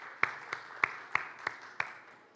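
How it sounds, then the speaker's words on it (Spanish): Sparse applause from a small conference-panel audience welcoming a moderator, roughly six or seven separate claps spaced evenly over a couple of seconds, faint and thin. "fuerte el aplauso para ella"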